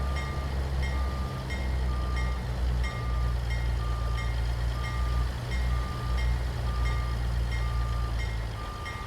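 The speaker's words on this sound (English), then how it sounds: "Slow moving CP rail train. Oh, CN." Slow-moving CN Rail freight train rolling past steadily, a deep continuous rumble with a faint repeating wheel click and a thin squeal over it, heard alone without talk.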